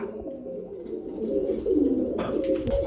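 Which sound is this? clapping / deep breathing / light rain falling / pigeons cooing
pigeons cooing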